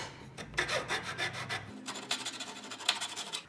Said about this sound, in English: So I'm going to do my hacksaw fit.